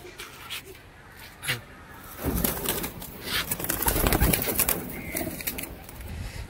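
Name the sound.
pigeons cooing on a rooftop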